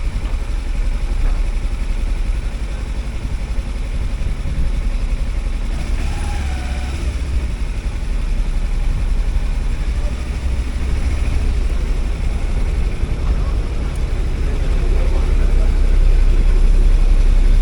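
Motorcycle engine running steadily in the background as the bike boards a ferry to Bruny Island, Tasmania, with a low continuous rumble under wind and ambient noise, growing slightly louder toward the end.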